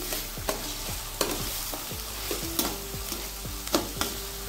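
Ginger, garlic and green chili paste fries in a pan for a gram-flour potato curry, a soft continuous sizzle broken by regular sharp scrapes and knocks of a spatula stirring.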